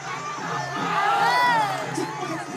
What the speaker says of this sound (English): the crowd roaring him on